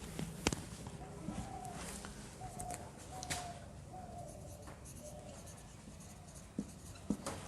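A pen or marker writes out the future value formula in a finance lesson, with short scratchy strokes and occasional taps against a faint room background.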